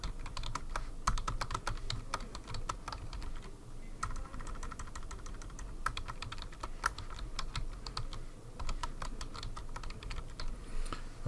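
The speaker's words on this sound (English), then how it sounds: "Now let's type something between the body documents." Rapid typing on a computer keyboard while a web page is built, with steady close key clicks in quick irregular bursts and brief pauses, quiet and with no talk.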